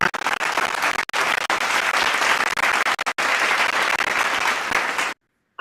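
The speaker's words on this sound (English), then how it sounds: "Clap it up for Chris" Loud, sustained applause from a crowd at a live show, dense clapping that runs for about five seconds with a couple of brief dropouts, then cuts off abruptly into silence.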